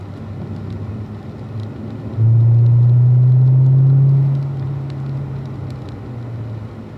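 A race car engine drones low and steady on track, swelling into a louder sustained throttle push midway before easing back to a constant hum; no one speaks.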